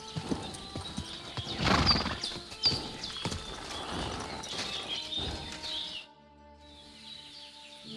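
Horse hooves clip-clopping in the medieval game Kingdom Come Deliverance II, a few heavy irregular steps with a whinny and faint birdsong, then cutting to quiet.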